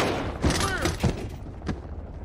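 Gunfire in a squad-based shooter video game: a few sharp shots and thuds in quick succession amid a whooshing swoop, with a voice talking briefly under the action.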